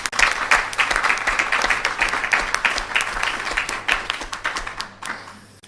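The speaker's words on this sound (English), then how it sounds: "as soon as you have given another round of applause for this" An audience at a university lecture gives a dense, loud round of applause that carries on steadily and tapers off near the end.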